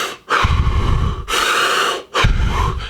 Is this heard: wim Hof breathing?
yes